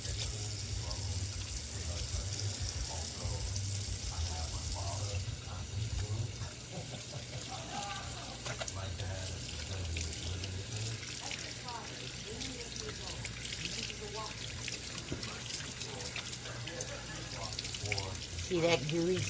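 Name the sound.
washing hands with soap under running tap water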